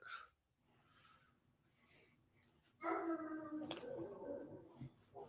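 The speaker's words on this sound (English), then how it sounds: "that is the hound" A hound dog lets out a long, loud indoor howl that starts suddenly after quiet, soft breathing-like sounds and trails on with wavering tones.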